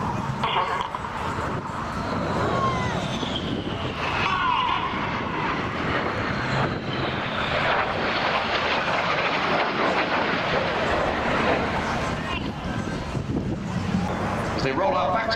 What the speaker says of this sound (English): Synchro now closing at over 800 miles an hour, 100 feet above the runway for the synchro pass.